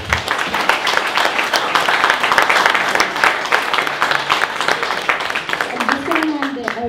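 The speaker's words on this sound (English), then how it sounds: "Round of applause, please." Audience at a Muslamic Makers community talk applauds at the close of a session, a steady, full wash of clapping lasting several seconds with a voice speaking over it near the end.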